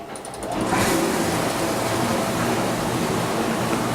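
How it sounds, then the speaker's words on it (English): A washer used for sterilizing cassettes starts its cycle, swelling within half a second into a loud, steady whir and rushing hum that holds evenly to the end with no voices. "Run the washer. This will be initiated by pressing the cycle start button."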